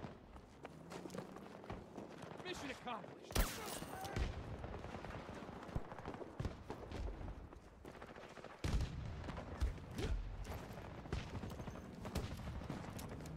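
Pistol fire in Battlefield 2042, a one-shot headshot handgun: sharp shots crack at irregular intervals over dense game noise, footsteps and distant battle clutter, fairly quiet in the mix.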